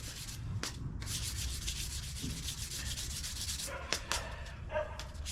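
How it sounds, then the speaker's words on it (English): Steady scratchy dry sanding by hand with 400 grit on a 1955 Chevy, a continuous rubbing rasp close by with a couple of sharper knocks near the end. "I'm just gonna go straight to 400 dry here"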